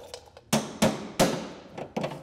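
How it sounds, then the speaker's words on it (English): A hammer strikes a pry bar to seat a bearing retainer during a vehicle track change in a workshop, giving several sharp metallic taps at an uneven rhythm, close and clear with no talking. "a little tap with a hammer and a pry bar, and it'll put it right into place"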